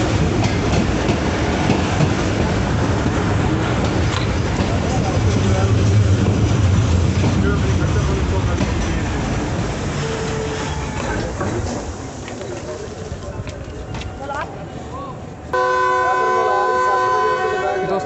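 The Jaffar Express rolls toward a station on the Lahore to Quetta run with a loud, rumbling rail clatter. The rumble eases toward the end, then a sustained horn toot sounds close by.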